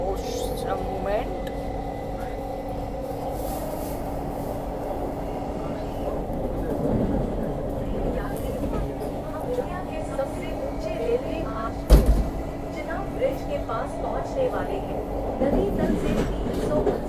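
Steady rumble and rattle of a train crossing the Chenab railway bridge in Kashmir, on the New Delhi to Srinagar route, heard from inside the carriage with a sharp clunk partway through and a voice talking over it.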